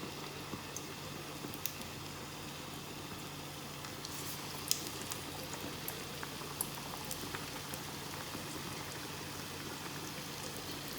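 Round onion pakoras for kadhi fry in already-hot oil, a steady, dense bubbling crackle that holds evenly throughout with no voices.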